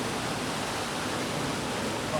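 Waterfall at the end of the Big Burn hike in Scotland, a steady broadband rush of falling water heard moderately close, unbroken throughout with no voices.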